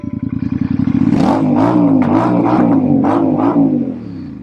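A Royal Enfield Shotgun 650 motorcycle engine revs hard close by, the exhaust climbing in pitch and then pulsing through a series of throttle blips before easing off.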